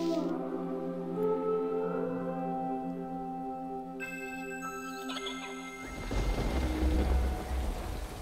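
Steady soft rainfall hiss rises over sustained ambient synth tones and chiming notes in the video game Superbrothers: Sword & Sworcery, swelling louder near the end as the music fades.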